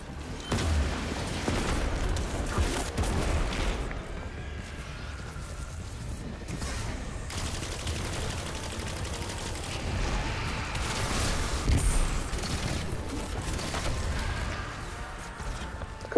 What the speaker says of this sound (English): Correction, she's throwing multiple Nova Bombs at me.